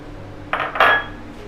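Chopped cucumber pieces tumble into a clay cooking pot in a Kerala kitchen, a short clattering rattle of a few quick knocks, close and alone.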